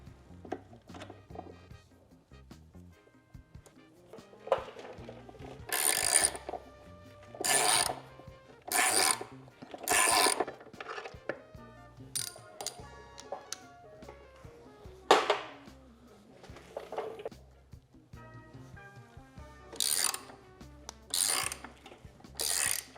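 A ratchet with an extension removes housing bolts on a 2024 Harley-Davidson Road Glide, giving bursts of rapid, bright ratcheting clicks separated by quiet pauses, close and distinct.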